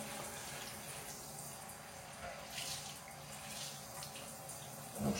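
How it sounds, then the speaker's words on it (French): A sponge is rinsed of cleaning product under a running tap while a silicone sink seal is being redone; the water flows in a steady, close hiss throughout, with a brief louder splash at the very end and no talking. "Donc je rince bien mon éponge"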